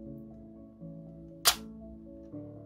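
The shutter button on a LEGO Polaroid OneStep SX-70 camera model gives one sharp, close plastic pop that stands out from a quiet, faint background hum.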